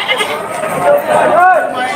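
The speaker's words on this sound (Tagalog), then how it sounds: "Ipinagpipili ang kambing na ito." A goat bleats loudly in a wavering call over steady talking and background chatter.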